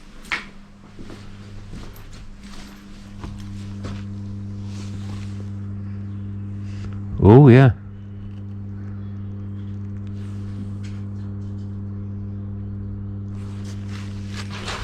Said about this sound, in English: You can hear like a humming sound coming from somewhere over there.